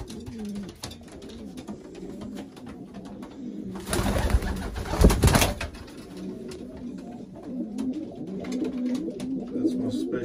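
London racing pigeons coo steadily in a loft, soft low rolling calls repeating throughout, with a louder burst of flapping wings and scuffling in the middle.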